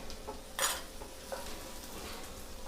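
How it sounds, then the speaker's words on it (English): Finely chopped garlic frying in a pan for a restaurant-style potato Manchurian gravy, a low steady sizzle with a brief louder clatter of stirring near the start, heard alone without talk. "Add the finely chopped garlic to it."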